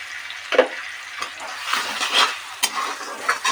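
Cumin-chilli paste and ground coriander sizzle in oil for a chicken curry while a utensil stirs and scrapes the pan in several distinct strokes, close and moderately loud.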